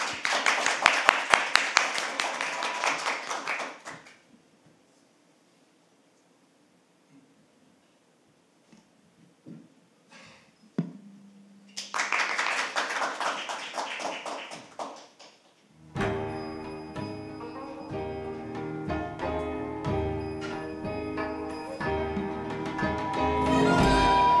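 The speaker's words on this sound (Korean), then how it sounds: "우리 큰 박수로 모셨으면 좋겠습니다" An audience at an academic panel event on reunification education breaks into loud applause, then falls silent. A second burst of clapping follows, and music begins playing as the clapping fades.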